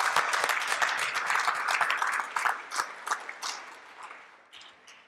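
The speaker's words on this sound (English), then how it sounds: "Let's give them a round of applause." An audience at a members meeting applauds with dense, continuous clapping that starts strong and gradually thins out and fades over several seconds, with a few scattered claps at the end.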